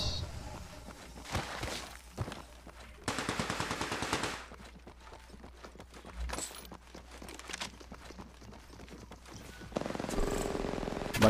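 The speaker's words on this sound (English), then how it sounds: "I hear gunshots." Rapid bursts of gunfire and machine-gun fire in Apex Legends Mobile crackle in several loud volleys, with quieter stretches and footstep-like sounds between them.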